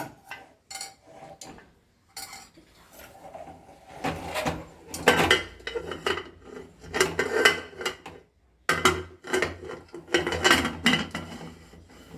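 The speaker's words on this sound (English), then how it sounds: "Now let us close the cooker." Someone fits the metal lid onto a cooker while making popcorn, producing close clanks, scrapes and rubbing knocks in irregular clusters with brief quiet gaps, no talk.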